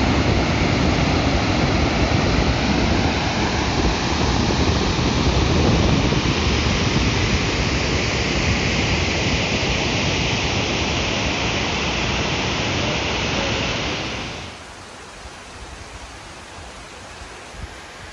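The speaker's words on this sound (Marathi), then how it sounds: "भामा आसखेड धरणातून 3616 क्युसेक्स इतक्या वेगाने पाणी सांडव्यातून सोडल्यानंतर असे चित्र पाहावयास मिळाले." Water released at 3616 cusecs roars through the spillway of the Bhama Askhed dam in Khed during monsoon rain, a loud, steady rushing torrent that drops abruptly to a quieter background near the end.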